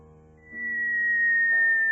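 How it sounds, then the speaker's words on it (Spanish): Falling whistle sound effect, a single thin, clear tone that sustains and slowly glides downward in pitch for about a second and a half, rising in loudness over faint low background tones. "El silbido lo pusimos nosotros."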